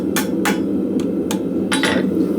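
A hammer strikes hot steel to straighten a forged flint striker, giving five or six sharp metallic blows in a loose, uneven rhythm. The strikes sound close and loud over a steady background roar.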